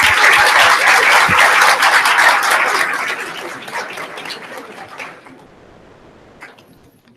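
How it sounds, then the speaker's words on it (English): Loud audience applause for newly elected school board members at a board of education meeting, sustained clapping that gradually fades out over several seconds. "Let's give them one more round of applause."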